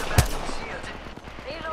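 A Spitfire machine gun fires in the Apex Legends video game, heard as a sharp burst at the start followed by a rattling run of rapid shots under game noise.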